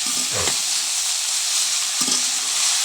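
Red amaranth greens sizzle and fry in a pan with a steady hiss, interrupted by two brief scraping stirs near the start and middle.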